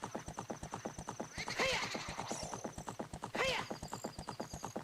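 Epona, the horse in the video game Ocarina of Time, gallops in a steady rapid clip-clop of hooves and gives two loud, close neighs along the way.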